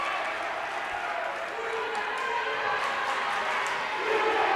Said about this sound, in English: Crowd noise picking up here for Loretto